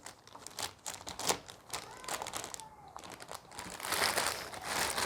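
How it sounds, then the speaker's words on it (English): Crinkling and rustling of packaging being unwrapped from a heavy kitchen knife block, a close series of crisp crackles and crumples with brief pauses. "And then I'm just going to unwrap it."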